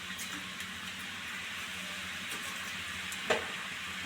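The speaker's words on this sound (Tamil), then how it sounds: "இப்போ மசாலா கலந்த கடலையே இதில் போட்டு எடுத்துருவோம்." Masala-coated peanuts fry in hot oil with a continuous close crackling sizzle that stays even throughout, with one brief click near the end and no talking.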